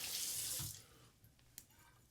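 Cold water gushes from a tap into a sink, a brief strong hiss of flow that cuts off after under a second, followed by faint drips and small clinks in a quiet room.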